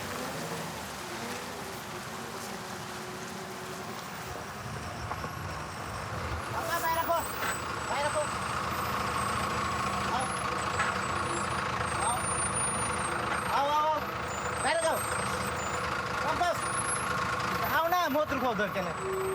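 A heavy truck engine rumbles steadily on a risky road along the Brahmaputra, with gear and brake noises rising partway through, while people talk over it.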